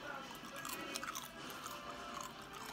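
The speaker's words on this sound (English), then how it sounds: "I can't eat the chips. The chips is hard." Someone bites and crunches hard blue chips close to the mic, a few faint crisp crunches mixed with chewing and soft mouth noises.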